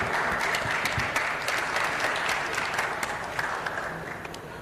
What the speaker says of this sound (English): A big round of applause for all of them once again